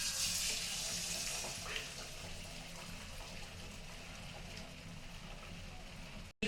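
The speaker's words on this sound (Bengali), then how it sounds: "তেল গরম হয়ে গেছে, এখন চিকেন চাপগুলো দিয়ে দিব।" Chicken chops frying in hot oil in a wok: a loud, dense, continuous hiss of bubbling oil fills the clip, steady and close, and cuts off abruptly at the end.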